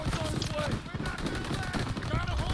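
Rapid gunfire bursts from Call of Duty WWII, a Battle of the Bulge mission, crackle continuously and loudly, layered with dense battle noise while players talk excitedly over it.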